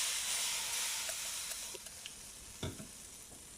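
Oil heats in a pan for making appam, a steady high sizzling hiss with scattered soft crackles and one sharper knock partway through.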